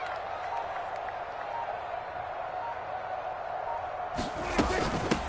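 Home crowd in an American football video game, a steady distant stadium murmur that rises abruptly into louder cheering and clatter near the end.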